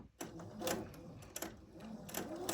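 A sewing machine stitches quilt pieces in short, quiet bursts of rapid needle chatter, stopping and starting three or four times with no talking.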